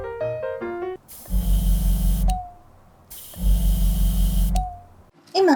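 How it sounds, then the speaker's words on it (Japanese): Airbrush compressor set directly on a table, running in two loud, steady bursts of a deep motorized hum and hiss, each lasting about a second, with short pauses between them. "それではまずはコンプレッサーをオン。"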